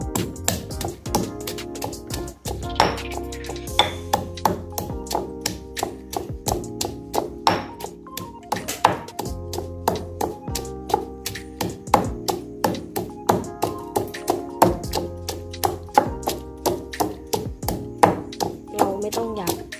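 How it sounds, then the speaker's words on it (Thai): Steady rhythmic pounding of a mortar and pestle, dense repeated thuds at a brisk pace, close by, continuing throughout with no talking. "ขี้เกียจเอาเครื่องมาก็เลยตำ"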